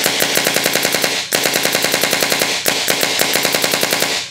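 Rapid-fire bursts from a Planet Eclipse GEO 3 paintball marker, a few years old and well tuned, with three quick strings of evenly spaced, loud pops separated by brief pauses.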